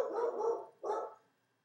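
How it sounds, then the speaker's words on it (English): A dog barks twice in quick succession, close and fairly loud, with no talking over it, then falls silent. "That was my dog."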